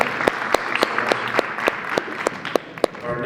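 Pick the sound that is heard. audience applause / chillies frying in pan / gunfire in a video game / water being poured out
audience applause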